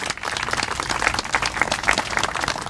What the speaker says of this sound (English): A round of applause for all that great work.